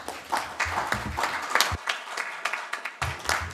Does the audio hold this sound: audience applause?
yes